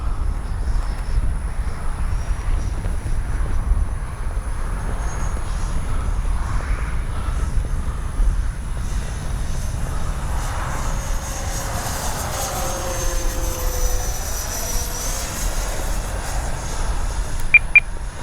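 XFLY F-35 RC electric ducted-fan jet flying on its maiden shakedown and speed trial, with a steady loud whine that rises and falls as it passes, and a few short beeps at the end.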